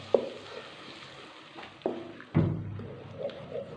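Ground onion paste frying in a pan for chana dal kofta gravy, a soft steady sizzle broken by a few sharp stirring clatters and spatula scrapes, close and fairly quiet, with no talking.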